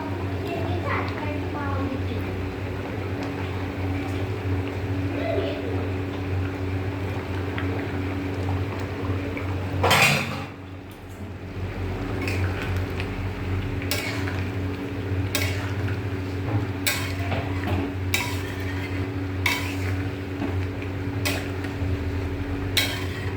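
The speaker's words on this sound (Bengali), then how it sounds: "এই যে ঝোলটা ফুটে উঠেছে, এবার এই বাটা মশলাটা দিয়ে দেবো" Curry broth bubbling at a rolling boil in a pot as ground spice paste goes in, a steady low simmer under a constant hum, with a few sharp clinks of utensils against the pot.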